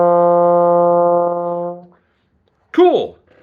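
Trombone holding a single steady concert F for about two seconds before fading out. A short spoken word follows after a pause.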